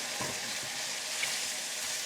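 Pork stir-fried in a wok with soy sauce and white pepper over the switched-off burner, a soft close sizzle with faint scraping stirs, quiet and continuous.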